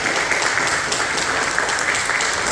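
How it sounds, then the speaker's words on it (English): Audience applause at a Port Richey centennial event, a steady, dense wash of clapping from a crowd that holds loud and even throughout without pause, with no talking over it. "A round of applause for our Port Richey peeps."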